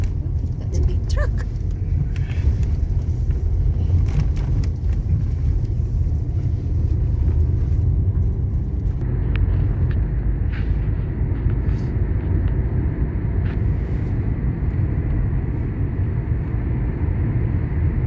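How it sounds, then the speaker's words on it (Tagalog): A big truck passes on a road near a river during a snowmelt walk, a loud, steady low rumble that fills the whole stretch, with voices present. "That's a big truck."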